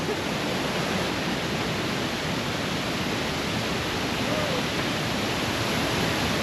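Powerful waterfall in Ubud, Bali, a loud, steady, broadband roar of falling water that fills the whole scene without pause.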